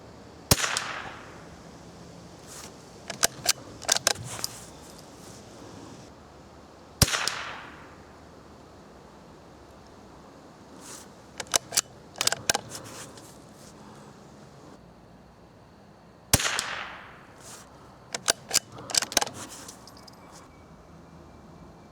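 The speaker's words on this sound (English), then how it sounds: "I have a feeling this gun can shoot much better." An old .22 rifle fired at a target, with sharp, close cracks coming in small spaced clusters of shots and quiet pauses between the groups.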